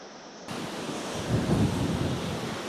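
The Budhi Gandaki River rushing below a suspension bridge on the Manaslu trek in Nepal, a dense, constant roar of flowing water mixed with wind buffeting the microphone.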